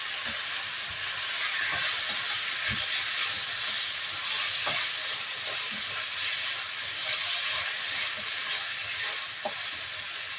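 Three chicken drumsticks sizzling in a hot pan as they cook, a steady bright hiss with small pops and crackles scattered through it, close and continuous.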